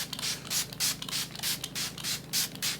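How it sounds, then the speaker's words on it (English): Repeated bursts of Blue Marble setting spray from Nigel's misted over a made-up face and a beauty blender, about nine short hissing puffs in a steady rhythm, close and clear, with no talking. "you want to really spray"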